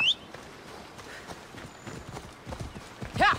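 Quick clip-clop of horse hooves at a walking pace in Assassin's Creed Odyssey, fairly close, with a faint high chirp near the end and low background hum.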